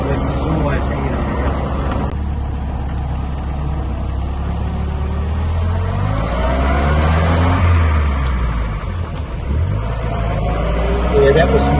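A 1948 Jaguar Mark IV engine drones steadily from inside the car, its low note rising and dipping through revs with a gear change, under continuous talk from the occupants.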